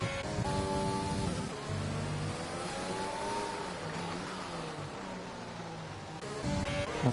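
An F1 car engine in the F1 2020 racing game wails through gear changes, dipping and climbing in pitch as it races and defends position, loud and continuous without any voices.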